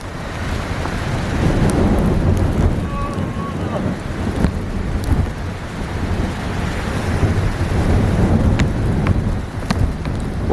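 Rain falling in the mountains at Miyanoshita, Hakone, heard as a dense, steady wash of close hiss and rumble, with gusty wind buffeting over it throughout.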